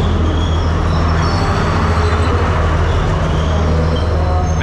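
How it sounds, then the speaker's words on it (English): A train pulls into a railway station in Sri Lanka with a loud, continuous low rumble and steady mechanical drone, close and unbroken, without voices. "a train is coming"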